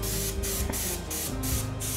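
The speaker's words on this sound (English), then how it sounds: "this is the first let's say spray coat" Spray paint hisses steadily onto a textured decorative painting of La Catrina as the first coat goes on, with a few short pauses between strong, close bursts.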